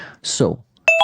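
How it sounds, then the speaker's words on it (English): Short electronic beeps with a bright tonal ring cut in briefly at the end, right after a voice during a livestreamed auction. "sorry for that beeping"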